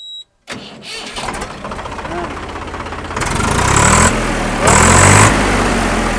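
A tractor engine cranks on its self-starter and catches, then settles into a loud, rumbling idle that grows stronger, with people talking over it.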